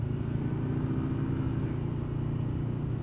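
A Yamaha Vmax motorcycle engine riding on a light, steady throttle on a winding mountain road, a continuous low rumbling drone at even pitch with no speech over it.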